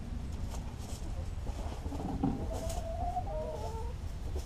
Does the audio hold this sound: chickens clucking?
yes